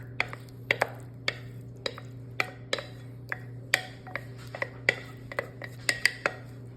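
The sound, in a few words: spatula being picked up from utensils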